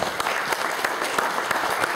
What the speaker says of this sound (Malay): Kita berilah sikit tepukan kepada Dr. Kuah.